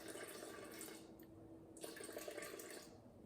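Water poured into a bowl of sourdough dough, a close splashing trickle that pauses briefly midway and then resumes, with no talk.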